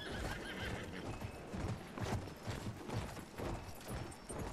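Horse galloping and neighing in the video game Battlefield 1, rapid hoofbeats pounding steadily with a whinny over loud battle noise, quiet and continuous.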